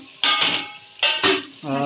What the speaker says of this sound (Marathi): झाकण आता आपण काढूया